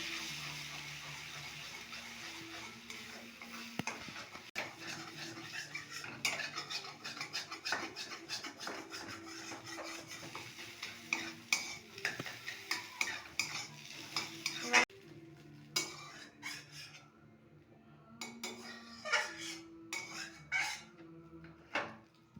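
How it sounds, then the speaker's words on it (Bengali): Metal utensil scraping and stirring egg frying in a pan over a soft sizzle, with repeated clinks and scrapes growing sharper and more spaced toward the end. "তখনই তার মধ্যে আমরা এই ডিমটা ভেজে নেব। এরকম ভালোভাবে ঘুরিয়ে"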